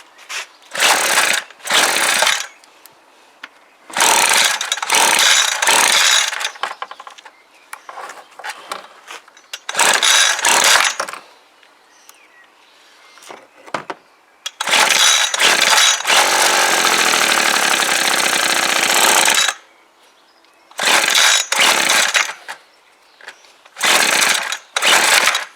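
Petrol hedge trimmer engine run at full choke and full throttle, its loud raspy two-stroke whine coming in repeated bursts of a few seconds each, separated by short quiet gaps, with one longer sustained run near the middle.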